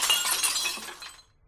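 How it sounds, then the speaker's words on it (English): A lamp topples over and its glass smashes: a single loud, close crash followed by tinkling shards that trail off into quiet. "like a lamp falls over and smashes"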